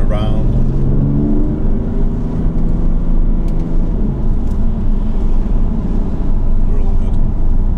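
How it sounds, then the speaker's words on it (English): A car engine in manual mode climbs high through its rev range while overtaking on the road, a loud, steady droning roar with rising harmonics that holds throughout, with some talk under it. "Actually put it into manual mode rather than automatic, that's why it was racing up through the rev range"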